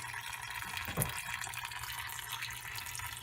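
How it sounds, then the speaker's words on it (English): Water trickles from an outdoor spigot at a low flow rate, a soft steady splash close by with one small drip-like plop standing out, quiet and alone. "on the water coming out of the spigot"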